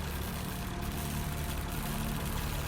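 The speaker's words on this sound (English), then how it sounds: "Judging by the engine noise and the smell, there are diesel generators in this shed." Diesel generators run inside a shed in the adventure game Lost Horizon, a dense, steady engine drone with a low throbbing rumble, constant and fairly loud, with no voices over it.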